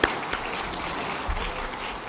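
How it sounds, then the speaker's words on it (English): Audience at the ClubsACT 2024 Clubs and Community Awards night giving a round of applause, a steady, fairly faint wash of clapping from many hands that lasts the whole stretch without talk. "Now, yes, a round of applause"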